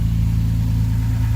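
Toyota Tacoma exhaust with a Magnaflow 18 by 6 inch round muffler, CapEx 2.5, stock manifolds and cats, running with no tailpipe after it broke off: a steady, close, deep idling drone with a low throbbing pulse throughout.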